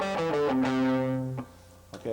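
A pentatonic scale played on an electric guitar with distortion, notes ringing one after another in a steady, sustained line up close, then cutting off to near silence before a final note begins.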